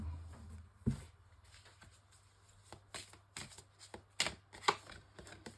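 Oracle cards being shuffled by hand, a quiet papery riffle and a few sharper slaps and flicks scattered through, close and soft with no talking.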